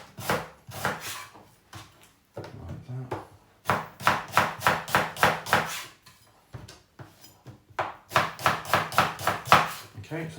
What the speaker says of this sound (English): I'm hanging onto it, keep tucking my fingers under, and I'm slicing it down.